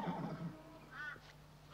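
A Waler horse in Australia's Northern Territory gives a faint, distant whinny, with soft outdoor noise around it.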